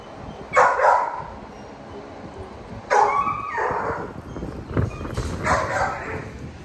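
XL pitbull puppies give short bursts of whimpers and high yips, several separate outbursts close by against a faint background rumble.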